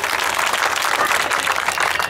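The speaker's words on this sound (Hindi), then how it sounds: "यार, इतनी कमजोर तालियां" A crowd at a live anchored event claps steadily, dense sustained applause at even loudness throughout.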